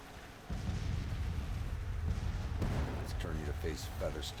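Rifle and artillery fire in a Civil War battle game: a continuous low rumble of distant gunfire and booming cannon begins abruptly and keeps rolling, with a voice talking over it.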